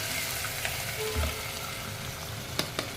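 Tomato and masala frying in a pan over a low flame for a broccoli kurma, with a steady soft sizzle throughout, a few light stirring clinks and taps near the end, and no talking.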